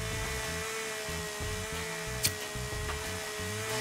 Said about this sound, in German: Ich hab ne Kettensäge!